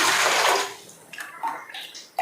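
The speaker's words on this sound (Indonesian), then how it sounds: "kita tambahkan kurang lebih 4 gayung air" Water pours from a dipper into a steamer pot with leaves in it, a loud splashing rush that fades after about a second into lighter trickles and drips.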